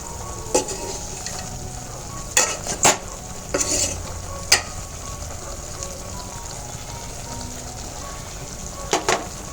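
Chicken pieces fry in the oil tempering for a village-style chicken sambar, with a low steady sizzle under several sharp scrapes and clacks of a stirring spoon against the pan.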